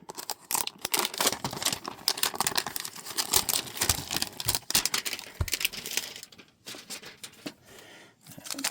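Scissors snip and tear at the packaging of a 2026 Topps Series 1 baseball trading card hanger box, a quick run of close crisp clicks, crinkles and rustles with no voices.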